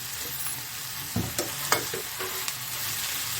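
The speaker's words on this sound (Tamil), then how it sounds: "இது ஸ்லோ ஃபயரில் வச்சுட்டு நல்லா வதக்கணும்" Shredded shark puttu is sautéed and stirred in a pan over a slow flame. A soft, steady sizzle runs throughout, broken by a few close scrapes and taps of the spatula.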